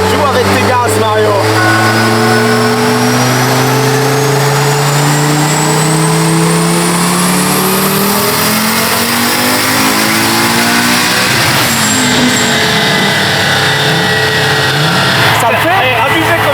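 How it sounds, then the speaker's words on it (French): A supercharged Audi engine revs hard and close, its pitch sweeping up through a long loud pull with a high whine above it, then easing off before a final rise. "Joue avec tes gaz, Mario."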